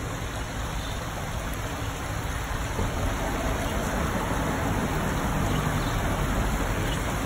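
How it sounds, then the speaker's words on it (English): Continuous wash of street traffic passing overhead, heard from beside a low, slow creek, a steady broadband rush with no distinct vehicles standing out and no talking. "you're going to hear traffic from the street overhead"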